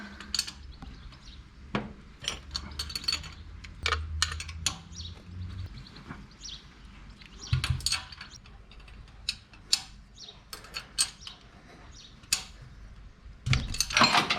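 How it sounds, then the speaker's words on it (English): A spanner tightens an adapter fitting into the head of an LS engine swapped into a 1951 Chevy, giving sparse, irregular metallic clicks and ratcheting ticks up close, with no talking. "Correct size spanner."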